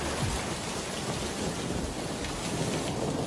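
Heavy rain pours continuously with low thunder rumbling underneath in an animated story scene, a dense, steady storm wash with no talking.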